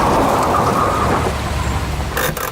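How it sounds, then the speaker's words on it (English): Heavy rain pours down in a fast-approaching storm on safari, a dense steady roar with deep low rumble underneath, loud and close throughout, with a few sharper bursts near the end. "the rain is starting to fall harder and harder"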